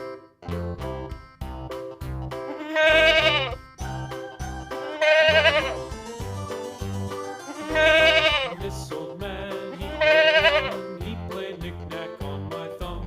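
A goat kid bleats four times in loud, quavering bursts over a bouncy, steady musical backing of a Bengali alphabet song.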